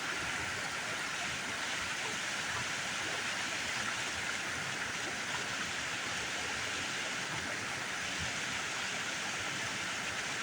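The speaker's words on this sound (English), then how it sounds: "right there is the waterfall." A waterfall in a stream gives a steady, even hiss of rushing water throughout, moderately distant and unbroken, with no voices.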